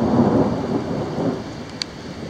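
Thunder rumbles during a thunderstorm in Corpus Christi, Texas, a deep rolling roar that swells and fades over a couple of seconds, with rain hiss underneath and no voices.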